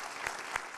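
A church congregation gives brief applause during a Spanish-language sermon, a faint, diffuse wash of clapping from a distance with a couple of louder claps standing out.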